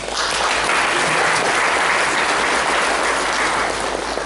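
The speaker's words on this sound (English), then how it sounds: "Let's give them a big round of applause." A panel discussion audience gives a loud, sustained round of applause. Thick, even clapping fills the room without a break.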